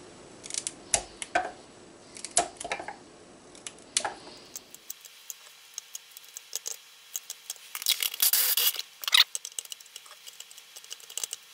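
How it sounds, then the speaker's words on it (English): Kitchen shears snip through tough horseradish roots, giving a quick series of crisp, close cuts and clicks that grow denser and louder after a quieter stretch of faint handling noise. "These roots are pretty tough, so I'm gonna go ahead and use some kitchen shears. Just cut them into little pieces."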